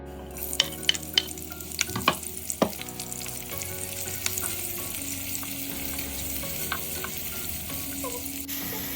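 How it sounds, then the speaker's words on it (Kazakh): Onions and potatoes frying in a pan, a constant soft sizzle with a few sharp clinks and scrapes of stirring early on, no voices. "Бізге ең алдымен бір пиязды турап алып, сосын картошкамызды турап, барлығын қуырып аламыз."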